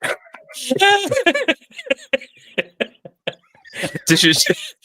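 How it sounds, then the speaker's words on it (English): A dog howls and yowls in a tonal, singing way, with wavering pitched cries at the start and end, close and fairly loud, while people chuckle and talk between the howls. "Does the dog only sing in English?"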